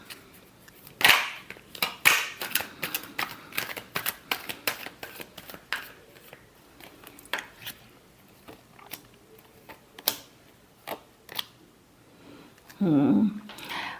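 Tarot cards shuffled by hand give a series of quick riffling slaps and snaps of varying loudness, with a short muffled rustle near the end.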